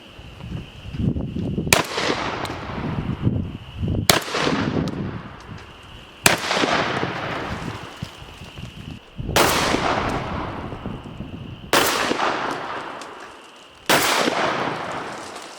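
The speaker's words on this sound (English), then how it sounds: "We're gonna shoot a target load, buckshot, and then a slug." A Mossberg 940 Pro Tactical SPX semi-automatic shotgun fires target loads, buckshot and slugs at 10 yards, six loud booming shots spaced a couple of seconds apart, each followed by a long ringing outdoor decay.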